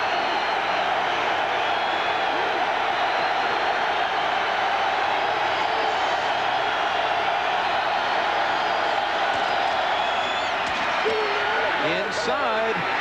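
Michigan student crowd huddled in the end zone of a college football stadium, cheering the Wolverines during the 1990 game at Notre Dame; a steady, distant roar of the crowd runs throughout beneath a commentator's talk.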